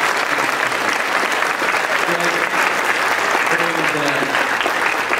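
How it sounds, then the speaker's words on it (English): A room of people breaks into a sustained, dense round of applause that holds steady and loud from start to finish, with faint voices murmuring underneath. "Greg deserves a big round of applause."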